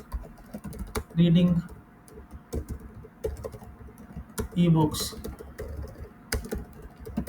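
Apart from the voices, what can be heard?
random typing on a computer keyboard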